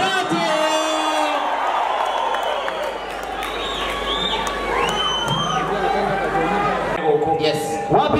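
A large crowd at a Kikuyu gospel music event cheers, shouts and whoops continuously, loud and dense throughout, with a few voices calling out above the roar.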